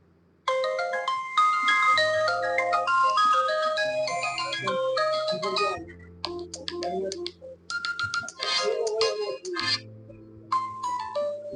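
A bright electronic ringtone melody with a bass line plays loudly through the small speaker of an OPPO A78 smartphone, pausing briefly before resuming.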